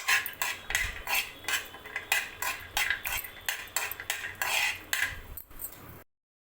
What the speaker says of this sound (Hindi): काजू को अच्छे से धीमी आंच पे फ्राई कर लूँगी